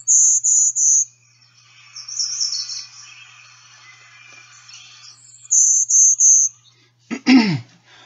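A golden-winged warbler gives its Type 1 song: high, buzzy notes in short clusters, a set of three, a longer wavering buzz, then another set, alone and clear, followed by a brief sharp call.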